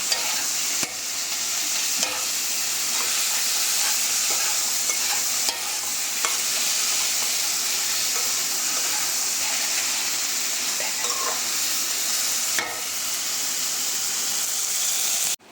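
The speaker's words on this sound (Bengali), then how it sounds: "মশলাটা খুব ভালোভাবে নেড়ে চেড়ে মিশাতে হবে, ভাজা ভাজা করতে হবে" Spice masala for a chepa shutki dish fries in a pan, a loud continuous hiss and sizzle with scattered scrapes of stirring, close up and without talk.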